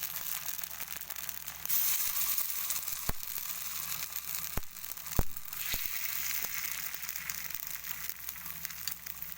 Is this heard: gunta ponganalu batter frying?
yes